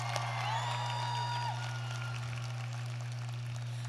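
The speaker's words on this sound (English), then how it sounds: "I think he's owed a round of applause" A graduation audience at the Bell High School Class of 2012 ceremony applauds steadily in a large space, with a few whistles and whoops over a constant low electrical hum.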